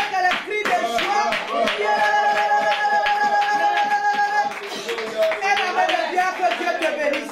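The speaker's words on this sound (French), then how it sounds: "Acclame le Seigneur avec le cri de joie." A church congregation claps and cheers in praise, steady rhythmic clapping mixed with loud overlapping voices and shouts, close and lively throughout.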